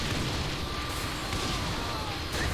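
Tank cannon fire in Saints Row The Third, a dense, continuous barrage of booming blasts and rumbling impacts, loud and close, with no pause for the whole stretch.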